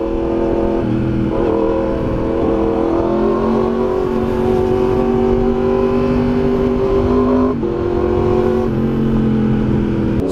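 A Yamaha MT-10 motorcycle on BST carbon wheels revs with a deep, round, steady engine drone, loud and close, rising and falling briefly a few times over about ten seconds.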